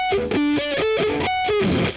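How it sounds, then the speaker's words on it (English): Distorted electric guitar plays a quick riff, notes fretted with ring and pinky fingers buzzing and fuzzy rather than ringing cleanly, loud and close. "some other common mistakes can be these notes buzzing out a lot that you play with the ring and pinky"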